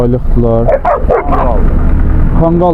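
Five-month-old puppies yip and bark in short, high bursts close by at a dog sale beside the livestock market in Mashtaga, Azerbaijan, mixed with people talking over them.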